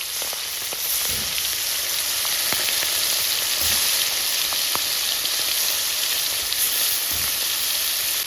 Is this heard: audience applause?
no